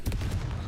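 A Confringo fire blast spell cast in Hogwarts Legacy lands as a short, heavy explosive burst with a deep booming body.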